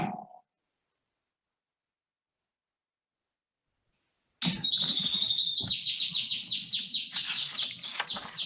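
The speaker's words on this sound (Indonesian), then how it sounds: "Ya, banyak burung Sarah." A brief sound cuts off into silence, then many birds chirp and tweet in rapid repeated calls around a house, close and lively, with no talking over them.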